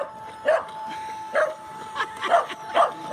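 A dog barks at a Boston Dynamics Big Dog robot: five short, sharp woofs spaced unevenly across a few seconds over a faint steady mechanical whine from the machine.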